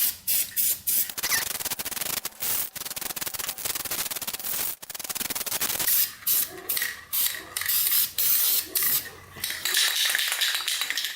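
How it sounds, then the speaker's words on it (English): Aerosol can of VHT roll bar and chassis paint sprayed onto parts of a 4x4 ATV, with long hissing bursts broken by short pauses and then a run of quicker, choppier spurts, close and loud. "We're using the VHT roll bar and chassis paint."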